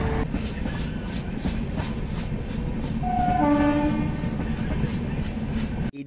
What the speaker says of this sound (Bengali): আমার বাড়ির পাশে কিন্তু রেল রাস্তা, আমি এখান থেকে রেল দেখতে পারি।